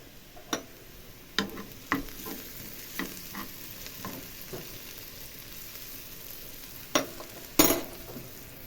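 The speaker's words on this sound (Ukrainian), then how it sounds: "цибулька смажиться" Quiet cooking sounds with intermittent clicks and clatters, like utensils stirring in a pan, over a faint steady sizzle of onions frying; no talking.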